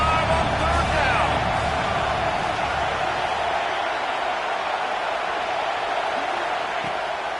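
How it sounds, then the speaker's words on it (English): Stadium crowd roaring on third down in a college football video game featuring the Ohio State Buckeyes against Oregon, a loud steady wash of cheering that fades slightly toward the end, with commentary voices over it. "The Buckeye crowd alive on 3rd down"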